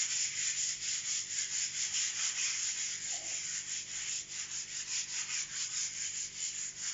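Steady, continuous abrasive rubbing as crack filler on a painted wall is hand-sanded with even back-and-forth strokes, close and fairly quiet, with no talking.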